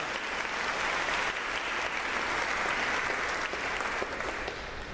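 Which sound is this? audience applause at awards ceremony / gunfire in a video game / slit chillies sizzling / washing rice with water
audience applause at awards ceremony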